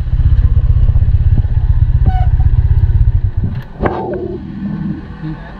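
Motorcycle being ridden, its engine putting steadily and loudly up close for about three seconds before dropping away, with a brief rattling clatter and thump near the end.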